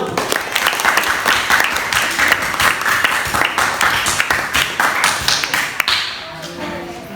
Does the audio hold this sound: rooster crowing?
no